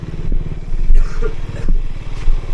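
A Suzuki GSX-R motorcycle engine runs close by with a low, throbbing pulse that swells in a few revving surges over a rumbling idle, with some clatter mixed in.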